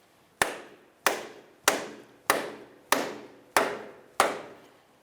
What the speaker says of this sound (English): you can try using a rubber mallet.